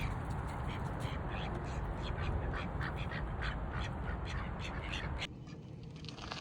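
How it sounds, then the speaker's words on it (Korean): A family of ducks, including a mother duck, quacking outdoors in the snow while eating snow, a busy mix of calls against steady background noise, with people talking nearby. "그러게 와, 오리 가족."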